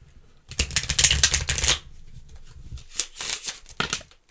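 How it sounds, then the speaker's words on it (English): Close-up riffle shuffling of playing cards: a long fluttering burst, a pause, then a second shorter shuffle with quick crisp flicks. "you need to make sure this is nice and shuffled"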